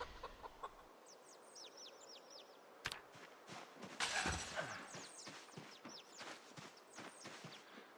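Chickens cluck and squawk in dirty hutches in the Project Zomboid survival game, a busy run of sharp calls with scratchy footstep-like rustles, fairly close and steady over the whole stretch.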